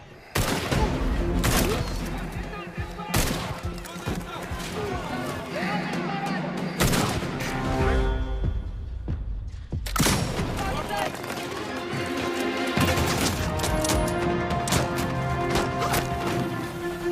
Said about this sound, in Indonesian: Tembakan demi tembakan dilepas.